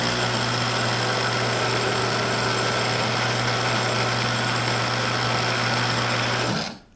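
An electric spice grinder grinds poppy seeds in a steady, loud, high-pitched whirring drone that holds for about six and a half seconds and then winds down as the motor stops. No one speaks.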